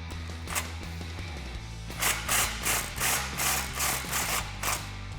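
Ratchet clicking as it tightens an exhaust clamp on a 2018-2019 Mustang GT cat-back system, a burst of quick repeated pawl clicks in several close, loud strokes with brief pauses between.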